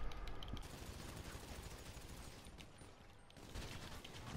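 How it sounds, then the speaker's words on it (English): Minigun in GTA 5 firing as a dense, continuous rattling burst, faint and distant beneath game ambience, with short lulls and renewed fire. "Ah, minigun."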